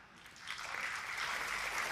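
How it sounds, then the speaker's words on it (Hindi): An audience at a motivational talk by Kumar Vishwas breaks into applause, rising quickly into a dense, sustained clapping from a large crowd. "आज तो आपने ताली बजाई"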